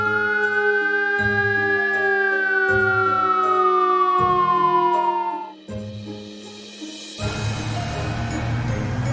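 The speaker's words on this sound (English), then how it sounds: "Fire brigade." A fire engine siren wails loud and close, a steady rising and falling tone over a pulsing rumble, then shifts to a rougher, noisier blare near the end.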